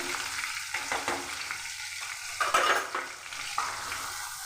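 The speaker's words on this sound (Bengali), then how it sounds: "মশলা ভেজে নেব" Ground spice paste of onion, ginger and garlic with cumin, coriander and red chilli powder sizzles steadily in hot oil, with occasional scraping stirs and a few soft pan clinks, close and continuous with no talk.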